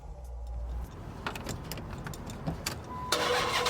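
A 6.1-liter Hemi V8 engine cranks and catches, settling into a deep rumbling idle, with a louder surge of revving near the end.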